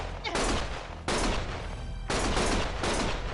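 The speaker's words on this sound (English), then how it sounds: "Stop shooting!" Gunfire in the video game Lost Judgment: sustained, dense bursts of shooting that fill the scene, cut into three long loud stretches with brief breaks between them.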